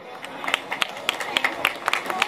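Audience applause at a Chinese festival opening ceremony, a spread-out crowd clapping with sharp individual claps standing out in a fairly regular rhythm, set back at a moderate distance, with speech over it.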